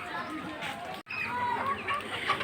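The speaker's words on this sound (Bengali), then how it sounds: "ঘরের ভিতরে যে মুরগিগুলো রয়েছে, এই মুরগিগুলোর অবস্থা আপনি দেখতেছেন।" Many chickens fill the inside of a poultry farm house with a dense, continuous chorus of clucking and chattering that stays close and steady, broken only by one very short gap.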